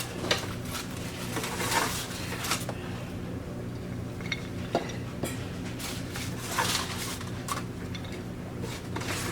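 Roasted asparagus and tomatoes are moved into a serving dish, with soft clinks and scrapes of utensils against cookware in a quiet kitchen, a few sharper taps standing out over a low hum.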